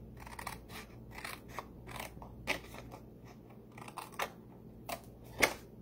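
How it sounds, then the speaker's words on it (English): Scissors snip through card along a score line in a series of short, crisp cuts, close and fairly quiet over a low steady background hum, with a louder final snip near the end. "So just cut along this score line here"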